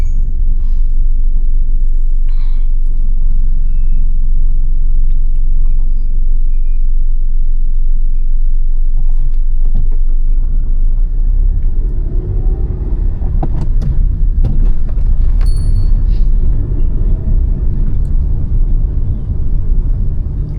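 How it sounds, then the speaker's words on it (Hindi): Steady low rumble of idling and slowly moving car engines in a heavy traffic jam in Shimla, India, heard from inside a Maruti Alto K10, continuous and close, with occasional brief higher-pitched sounds rising above the drone. "देख लो इतना लंबा जाम लग जाता है यहाँ पे"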